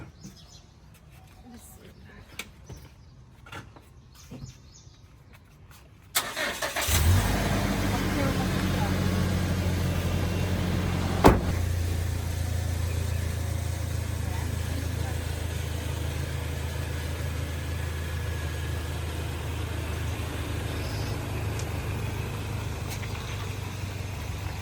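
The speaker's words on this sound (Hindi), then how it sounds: "गाड़ी स्टार्ट करेंगे" A motorbike engine, about to be ridden, cranks into life after a quiet stretch of ambient birdsong, then settles into a steady, loud idle with a sharp click partway through.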